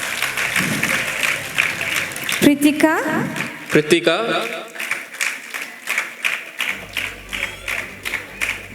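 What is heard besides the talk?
audience applause at children's Christmas program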